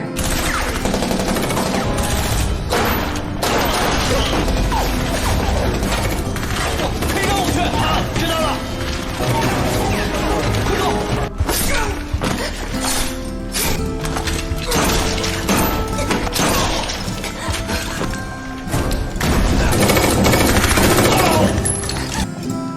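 A fierce battle from the film The Underground War rattles on with dense bursts of automatic gunfire, clanking mechanisms and impacts layered over a dramatic score, continuous and loud with occasional voices mixed in.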